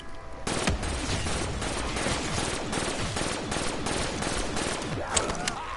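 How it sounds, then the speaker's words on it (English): Rapid gunfire blasting zombies in a video game, a dense continuous volley of shots at moderate level with no talking. "I'm shooting these zombies"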